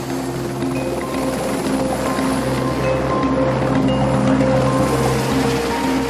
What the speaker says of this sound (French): C'est donc en hélicoptère que doit se faire le débarquement.